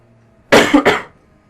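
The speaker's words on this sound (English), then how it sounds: "So I'm so sorry about the coughing." Two sharp, close, loud coughs in quick succession, the second trailing off into a brief rasp, with near silence before and after.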